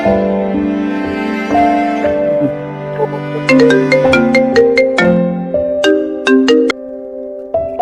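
A phone rings with a melodic ringtone for an incoming call, a bright sequence of loud, clear chiming notes that repeats for several seconds on its own, close to the listener.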